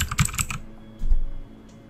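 A few keystrokes on a computer keyboard captured by a Blue Yeti condenser microphone, with music placed opposite the typist; a short cluster of close clicks comes first, then a soft thump and faint tail.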